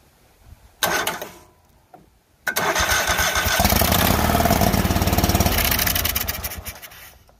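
A GT3000 garden tractor engine, previously damaged by fire, cranks briefly, then catches after a pause and runs at a loud steady chugging idle before easing off near the end.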